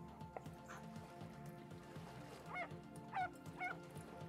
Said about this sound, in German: Kleiner Hund.